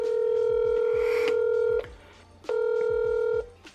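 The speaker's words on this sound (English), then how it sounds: "Let's make a phone call and find out." A phone call placed to a welder repair shop: loud keypad tones sound with rapid clicking presses, a long steady tone breaks off, then a second long tone follows, with no talk.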